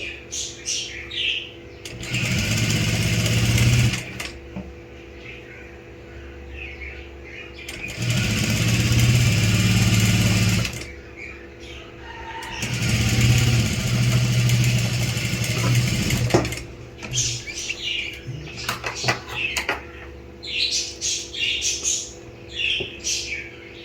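A sewing machine stitches a net fabric sleeve in three steady runs of several seconds each, with quieter pauses between. Light handling noises and faint chirps fill the gaps.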